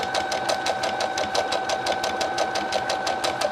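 A sewing machine stitches fabric for a Scotty dog shape, its needle hammering in a fast, steady, even rhythm, close and continuous with no talking.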